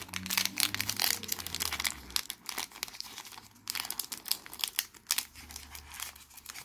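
A Pokémon Unified Minds booster pack wrapper is crinkled and torn open up close, giving irregular bursts of crackling foil-plastic rustle with brief pauses and no speech.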